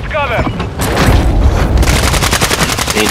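Loud, rapid bursts of gunfire and booming blasts on the Vondel map of a video game, firing in quick rattling strings almost without pause.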